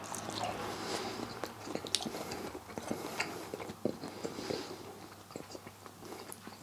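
Someone chews a piece of Chinese-style velveted beef steak, with soft wet biting and mastication sounds repeating irregularly, close and quiet, and no talking.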